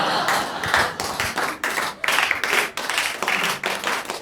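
Audience clapping at a stand-up comedy show, a dense burst of many hands with uneven swells and brief dips, fairly close and loud with no talk over it.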